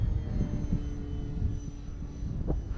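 A Durafly Tundra RC model plane drones steadily overhead after a stall turn, its small electric motor and propeller a continuous mid-distance hum with slight swells, no voices.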